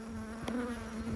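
Nurse bees on brood frames give a close, steady buzzing hum with a sharp tonal whine through it and a brief louder burst near the middle, no talk.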